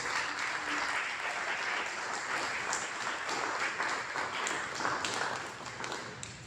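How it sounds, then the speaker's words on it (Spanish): Congregation applause in a church service, continuous even clapping from many people, moderately quiet and distant, with a faint background hum. "Vamos a darle un aplauso al Señor por eso"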